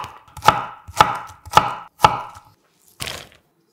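A knife cuts half a zucchini into 0.5 cm julienne strips on a cutting board, giving four sharp, evenly spaced chops close up. A fifth, softer chop follows after a short pause. No voices.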